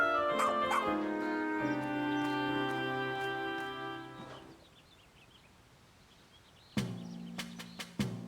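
A video game dog in Pikmin 4 gives a few sharp barks and stretched whimpering whines over soft tonal game music, with a quieter gap before more yips at the end.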